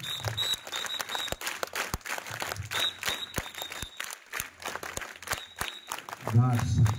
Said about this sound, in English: Please clap yourself.